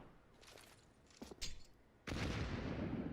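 Gunshots fired through a wall in the Counter-Strike video game, a few quiet distant pops followed by a louder sustained burst of fire close by.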